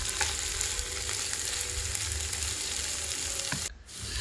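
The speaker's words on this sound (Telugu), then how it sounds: "మధ్యలో కూరని ఇలా ఫ్రై చేసుకుంటూ ఉండాలి." Rayalaseema-style brinjal masala curry sizzles in a pan as it fries, a steady close crackling hiss with light stirring scrapes, cutting out abruptly near the end.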